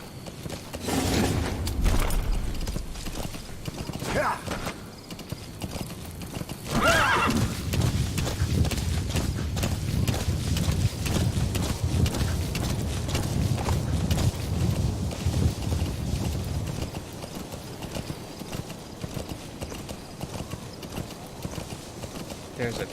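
A horse in Metal Gear Solid V gallops with steady clip-clop hooves and lets out whinnies near the start, the hoofbeats running under game sounds for most of the stretch.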